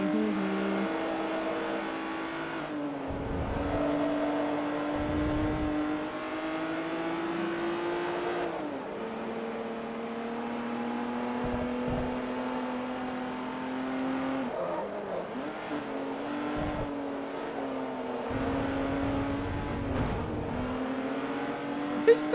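Stock race car in Forza Motorsport 3 holds a steady, loud engine drone with clear harmonics, easing and swelling through gear changes and corners over about twenty seconds, with no talk.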